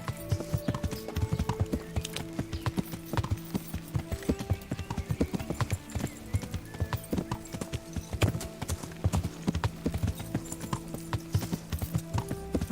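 Horse hooves clip-clop in steady, even rhythm throughout, loud and close, in the medieval video game Kingdom Come: Deliverance, with a short whinny and background game music underneath.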